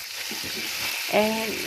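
Salted-butter caramel is stirred in a pan for ice cream, giving a steady close sizzling hiss with a brief brighter tonal swell near the end.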